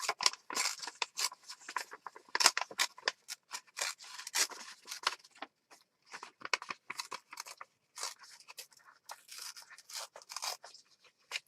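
Paper torn by hand for a junk journal, a rapid series of short ripping and crinkling bursts with brief pauses, close and fairly quiet, no talk.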